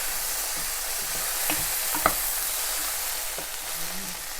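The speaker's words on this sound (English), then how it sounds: "I'm just going to add some salt at this point as well, and just give that a wee" Quiet stirring and scraping of carrot rice with salt in a pan, a few soft utensil scrapes and taps over a steady low sizzle.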